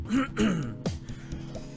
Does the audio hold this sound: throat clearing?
yes